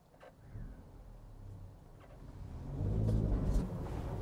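A Daihatsu Hijet Jumbo 4x4 kei truck with push-button start: a low, steady engine rumble that swells as it pulls away and drives, close by and without talk.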